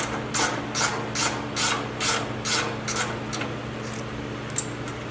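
Ratcheting wrench breaking loose and backing out an exhaust bolt on a Polaris RZR XP Turbo, a steady series of about eight close, rasping clicks at an even rhythm, then a few lighter metallic taps.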